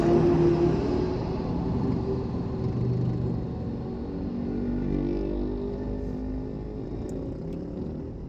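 Car traffic drones around a vehicle, a low steady engine rumble with a brief rev at the start and passing cars swelling and fading in the background.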